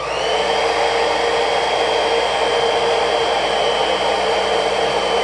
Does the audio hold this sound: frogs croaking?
no